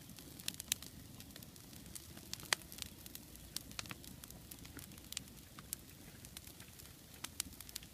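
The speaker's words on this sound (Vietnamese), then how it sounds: "Bây giờ lửa đã cháy rồi." A wood campfire lit outdoors in a field for grilling burns with sparse, sharp crackles and pops scattered over a low, steady hiss, faint and close, with no talking.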